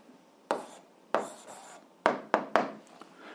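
Pen writing an algebra answer by hand on paper, a handful of short, close scratchy strokes spaced irregularly across a few seconds, with quiet gaps in between.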